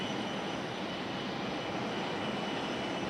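A Delta Boeing 737 jet airliner taxis at Raleigh Durham International Airport, its engines giving a continuous, even roar with a hissing high whine, steady and fairly near.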